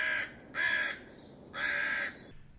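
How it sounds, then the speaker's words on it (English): Three loud, harsh caws from a crow, evenly spaced about a second apart and heard close up against a quiet background. "When birds start calling loudly or repeatedly,"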